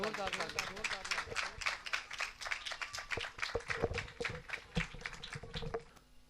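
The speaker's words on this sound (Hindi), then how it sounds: "जोरदार तालियों में हम खुदा के कलाम को और खुदा के खादिम को वेलकम कहेंगे" A church congregation claps together in quick, rhythmic strokes, a crowd of hands in fairly even pulses, with a voice sounding over the opening moments before the clapping carries on alone and fades near the end.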